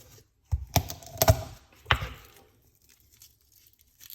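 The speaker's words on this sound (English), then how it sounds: "crush your garlic" A few sharp, close crunching cracks as garlic cloves are crushed, clustered in a quick burst followed by one more, then near silence.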